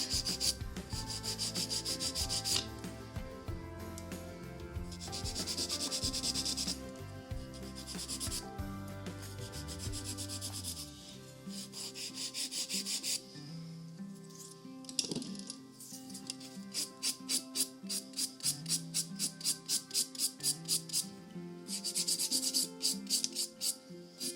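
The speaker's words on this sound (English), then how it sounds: "So we're just going to follow our usual filing routine and just make this nail look pretty." An acrylic nail is being shaped with a nail file, giving repeated rubbing, sanding strokes in steady back-and-forth bursts, close and fairly loud, with quicker rhythmic strokes toward the end and no talking.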